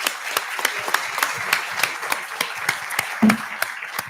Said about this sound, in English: a big round of applause for all of you again